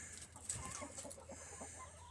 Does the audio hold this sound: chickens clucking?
yes